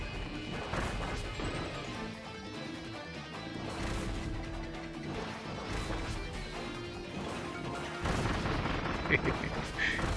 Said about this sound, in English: you can chuck bombs everywhere, but you can they home in on enemies as well, and you can chain the bombs together